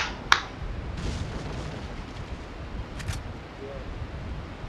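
Grenade blasts in Resident Evil 4: a sharp, loud burst near the start, then softer thuds and a second blast about three seconds in, over steady game background.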